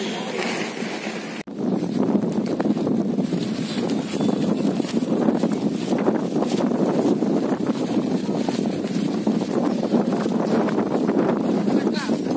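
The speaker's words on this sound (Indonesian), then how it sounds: "Dan tiba-tiba muncul angin yang kencang." Strong wind sweeps across a mountain slope at night while climbing. It comes in as loud, gusty roaring and buffeting right at the microphone after a brief quieter start, and it stays rough and unbroken throughout.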